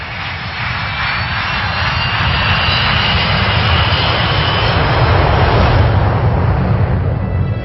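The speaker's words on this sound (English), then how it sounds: "The plane is a Tupolev 154." A Tupolev 154 jet airliner roars steadily in flight at night, a loud continuous engine drone with a rumbling low end that swells slightly, with no voices.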